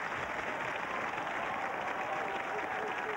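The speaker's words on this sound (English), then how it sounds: "Give him a nice round of applause." A comedy show audience gives a steady round of applause for a performer, a dense, even clatter of many hands across the room, with faint voices mixed underneath.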